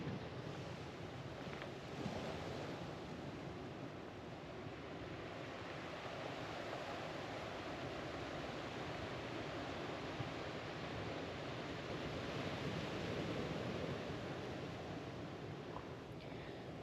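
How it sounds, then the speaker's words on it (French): Waves wash over a pebble beach, rolling the stones in a continuous, broad rush with wind noise on the microphone and no voices. "le bruit des galets qui bougent avec les vagues, c'est vraiment cool"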